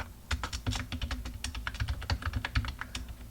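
Rapid, irregular keystrokes on a computer keyboard clatter close by with no pauses, typing a Linux install command on an Ubuntu machine.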